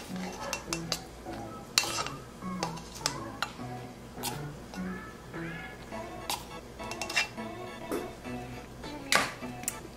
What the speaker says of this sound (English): on a bowl, I'm gonna start by mixing my sugar